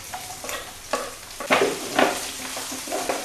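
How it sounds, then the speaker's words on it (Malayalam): Onion and capsicum for gobi manchurian stir-fried on a high flame, with repeated scraping strokes of a spatula over a steady close sizzle and no talk. "നമ്മൾ ഈ ഹൈ ഫ്ലെയിമിൽ വെച്ചിരിക്കുന്നതുകൊണ്ടാണ് ഇങ്ങനെ ഇളക്കി കൊടുക്കുന്നത്."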